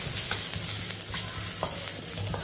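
Finely chopped garlic sautéed with cumin in hot ghee for a weight-loss soup: a steady, loud sizzle fills the whole stretch, with a few scraping stirs of a spoon in the pan and no voices.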